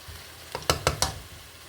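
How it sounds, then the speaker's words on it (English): Bacon, a little over half a pack, stir-fried in a pan: a brief soft sizzle with three quick scraping strokes of the utensil, close by, with no voices. "So let's stir fry this."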